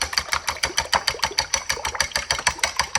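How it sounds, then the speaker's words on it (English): Egg and about a cup of milk whisked briskly in a bowl, a fast steady run of close clicking strokes, roughly five or six a second, with nothing else over it. "Whisk it up."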